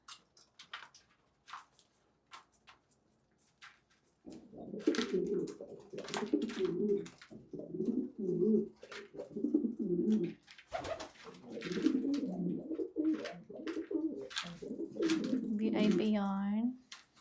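Pigeons coo in soft, throaty, repeated rolling phrases close by, with scattered sharp clicks and taps between the calls.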